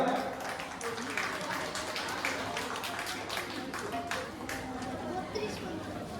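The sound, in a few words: audience applause for the performers Ashok and Abhijit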